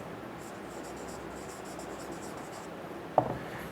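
Chalk or marker writing on a board during a grammar lesson, a series of soft scratchy strokes in quick rhythmic bursts, close and fairly quiet, ending with a sharper tap.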